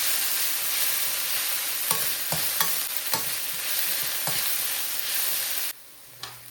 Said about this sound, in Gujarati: ડુંગળી નાખીને હવે એમાં નાખી દઈએ લસણ.